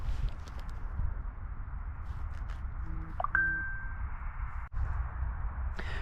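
A single sustained electronic tone from a metal detector rises briefly above steady outdoor background noise, holding for about a second before fading out.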